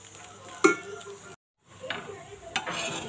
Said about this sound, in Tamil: ஒரு நிமிஷம் இது வேகட்டுங்க.